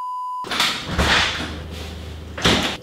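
A front door being opened for a delivery person, with a sharp latch click followed by a rushing whoosh of the door swinging and a second thud near the end, loud and close.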